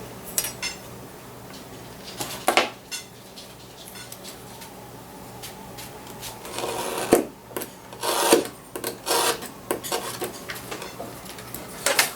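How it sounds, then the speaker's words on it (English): Excess leather trimmed from a belt loop makes close, irregular rasping and scraping strokes, bursts of cutting separated by short pauses, fairly quiet overall. "I'm going to go ahead and cut off some of this excess"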